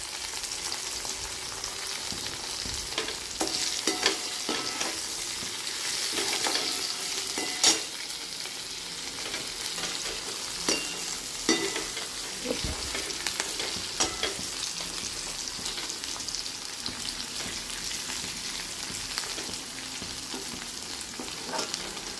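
Eggplant, tamarind and salt sautéing in a pan for chutney give a steady close sizzle with occasional sharp stir-and-scrape clicks from a utensil, all without talk.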